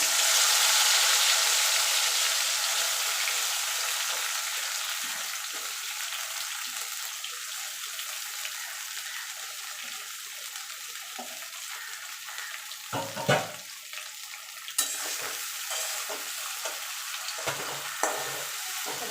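Steady sizzling of okra coated in gram flour, salt, turmeric and chili frying in hot oil, a dense crackling hiss throughout with a few louder pops and clinks of stirring near the end.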